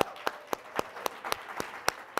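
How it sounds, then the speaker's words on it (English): An audience claps for Craig at an evening gala event, a sparse scattering of distinct, evenly spaced hand claps rather than a full roar, moderately close and without speech over them. "let's give Craig a big round of applause"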